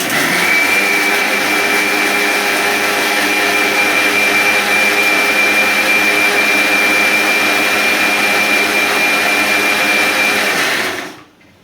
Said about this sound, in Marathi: आता मिक्सर.